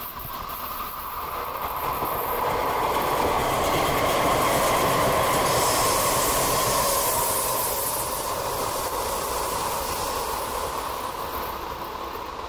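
A light rail train passes by outdoors in a park, a steady rumbling roar with wheel hiss and faint clatter that swells and fades over about twelve seconds, no talking.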